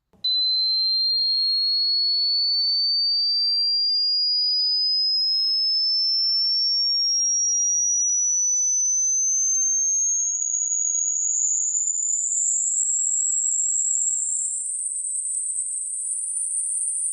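A pure high-pitched test tone sweeps slowly and steadily upward for a hearing test, holding one loud constant level and growing thinner and shriller toward the end, with no voice.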